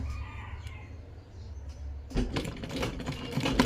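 A sewing machine stitches the seam of a ghoti pant, running in a short, steady mechanical burst that speeds into a busier, louder chatter after about two seconds, close by and with no voices.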